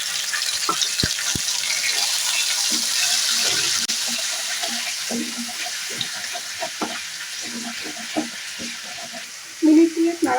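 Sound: onion paste frying and being stirred in pan

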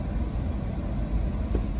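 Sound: road traffic in a jam on Christmas Day, Goa

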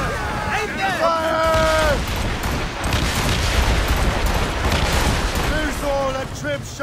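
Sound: ship cannon fire in naval battle

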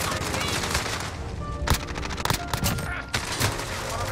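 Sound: gunfire in Modern Warfare video game

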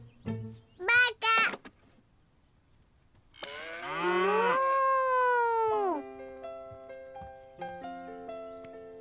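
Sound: cow mooing

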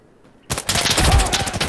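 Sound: gunfire in the video game Insurgency Sandstorm

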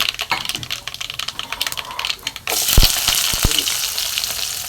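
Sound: dried red chillies frying in coconut oil

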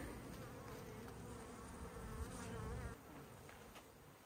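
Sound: honey bees buzzing

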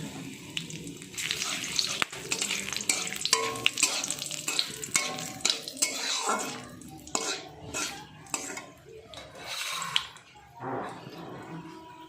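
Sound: whole spices sizzling in hot oil

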